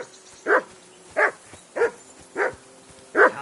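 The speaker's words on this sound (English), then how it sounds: "Jesus, Henry, that barking's driving me nuts." A dog barks in Kingdom Come Deliverance 2: five evenly spaced, moderately near barks, roughly two-thirds of a second apart, with quiet gaps between them and no talk.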